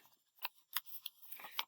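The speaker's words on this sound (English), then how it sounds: "You take a scissors" Scissors cut through folded paper, a few quiet, crisp snips and crunches spaced irregularly, close to the listener with no talk.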